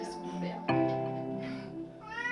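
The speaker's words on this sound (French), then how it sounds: "Un chat qui rentre?" A cat at an animal shelter gives a drawn-out, rising meow, then a second cry near the end, heard close by over a faint background hum.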